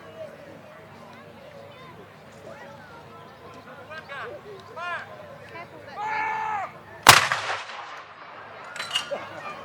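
A WWII 25-pounder towed artillery gun fires once at an outdoor wartime display: a single sharp, booming blast that cuts through quieter ambient noise and distant voices, followed by a brief echoing tail.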